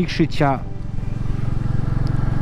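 A motorcycle engine runs steadily under way on a mountain road in Montenegro, a low continuous drone with wind rumble after a brief voice at the start.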